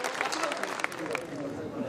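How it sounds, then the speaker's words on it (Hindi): Crowd applause for poet Shashi Shreya at a Hindi kavi sammelan poetry gathering: dense, steady clapping that fills the whole moment, with a voice speaking over it. "थोड़ा जोरदार तालियां शशि श्रेया के लिए"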